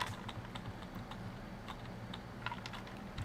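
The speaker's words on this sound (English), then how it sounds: "Smash the keyboard in my frustration." Keys clatter on a computer keyboard in quick, light, irregular taps, quiet and close over a faint steady hum.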